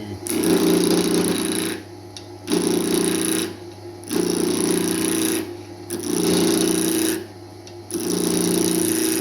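A wood lathe spins steadily while a roughing gouge rough-turns the blank toward a cylinder, giving a loud, buzzing chatter in repeated passes of about two seconds, each followed by a short lighter pause, over a constant motor hum.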